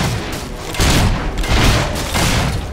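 Gunfire in Fable 3, heard as loud overlapping shot bursts and booming blasts that swell in waves over a rumbling background, close and continuous, with no talking.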